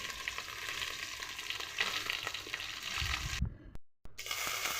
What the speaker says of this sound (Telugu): పచ్చిమిర్చి అవి వేసుకొని బాగా వేపేసుకుంటున్నాను.